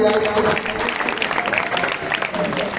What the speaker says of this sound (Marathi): आपण सर्वजण टाळ्या वाजवून एकदा त्यांना धन्यवाद देऊया